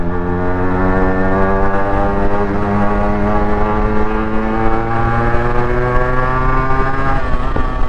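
A Yamaha RXZ motorcycle engine runs loud and close, a steady buzzing drone whose pitch drifts slowly upward and wavers over eight seconds with no voices.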